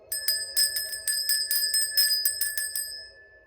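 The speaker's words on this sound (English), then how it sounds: "I'm going to ring the bell." A small hand bell rings loudly and rapidly, a bright metallic ding repeated about a dozen times in quick succession before trailing off, alone in a quiet room.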